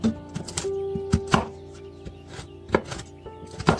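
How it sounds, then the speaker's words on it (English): A knife gives roasted salted pistachios a rough chop on a board, with sharp, irregular cuts and thuds spaced out, close and fairly crisp with no talking. "I'm just giving it a rough chop."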